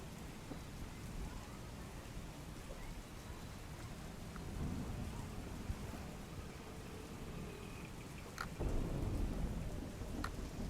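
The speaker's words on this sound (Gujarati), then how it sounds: "ફઝલ, સુરેન્દ્રનગરમાં લાંબા વિરામ બાદ વરસાદનું આગમન થયું છે।" Heavy rain pours steadily in Surendranagar after a long dry spell, a dense hiss of falling water with low thunder rumbling and a louder crack of thunder near the end.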